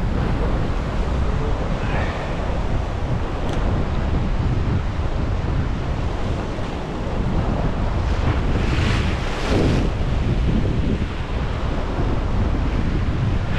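Ocean waves and strong wind at a shoreline during a family fishing trip, a constant loud roar of surf with gusts buffeting the microphone and swells breaking throughout, no voices.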